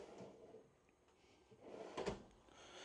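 An RV pull-out drawer with a quiet soft-close glide in a luxury DRV Mobile Suites 41FKRB fifth wheel, sliding with a soft muffled rumble and ending in one gentle thud, close and fairly quiet.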